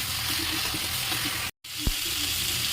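Vegetables frying in a pan on a home stove, a steady close hiss of sizzling oil with a brief dropout and a soft knock partway through.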